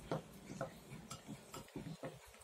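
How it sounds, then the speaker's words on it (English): Slime mixture from a slime kit is stirred in a container, with soft scraping and light taps in a loose, uneven rhythm, close and quiet, with no talking. "I will again mix it for 45 seconds."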